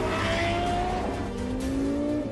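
A Lexus LFA sports car driven hard around the Nürburgring circuit, its engine note steady and loud, then rising in pitch as it accelerates with continuous high revs.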